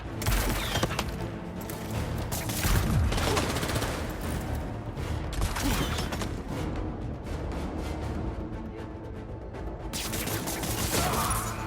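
Enemy gunfire rattles through a stretch of Spider-Man 2 gameplay on PS5: dense, continuous automatic bursts and scattered single shots that stay loud and close for the whole stretch, with impacts and clatter mixed in.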